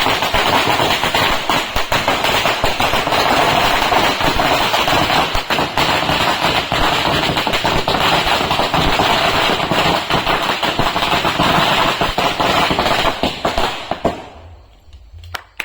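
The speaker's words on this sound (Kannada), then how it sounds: "ಕೊನೆಯ ಮಾಲೆ ಪಟಾಕಿ ಕೂಡ ಮುಗಿದಿದೆ." A garland of a thousand firecrackers bursts in a dense, continuous, loud crackling rattle for about fourteen seconds, then stops abruptly, leaving a few faint stray pops.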